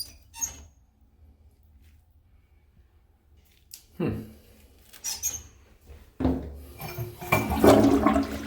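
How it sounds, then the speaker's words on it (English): A Toto toilet in a home bathroom flushes after being cleared with an auger, giving a rising rush of water and gurgling that builds loudly toward the end, with brief voices and handling noises earlier. "Flush is good now."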